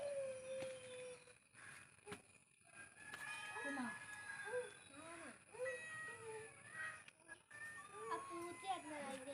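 A cat meowing indoors, faint and intermittent, with several rising and falling cries scattered among children's voices and household background noise.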